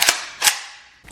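A banana-style magazine is loaded into a gun with sharp metallic clacks, two close loud snaps and a third starting at the end, with no voices.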